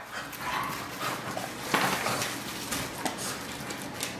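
An excited dog barks and yelps indoors in short, scattered bursts over a steady noisy background.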